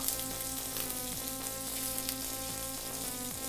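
Chicken in batter frying in a pan, a steady, dense sizzle and crackle throughout, close and constant with no talking.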